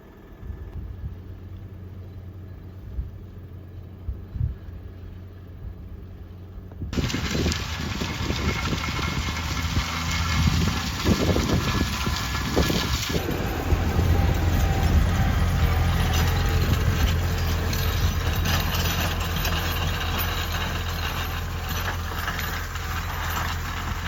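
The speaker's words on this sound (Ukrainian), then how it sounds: "Вон його трактор." A farm tractor's diesel engine idles steadily at close range in a field, a continuous low mechanical rumble that swells louder partway through with wind and handling noise, with no talking.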